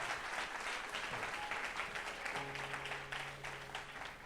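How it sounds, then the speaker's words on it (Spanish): Church congregation claps loudly to praise the Lord, a full, continuous roar of hands heard at some distance, with a faint sustained tone and a few voices underneath. "dale ese aplauso fuerte al Señor"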